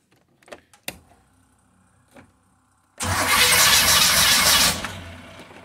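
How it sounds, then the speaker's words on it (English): Engine of a non-running 1978 Airstream cranking on a boost charger: a few faint clicks and knocks, then a loud steady churning starter drone for about two seconds that cuts off, close up with no talk. "Oh, now it's cranking."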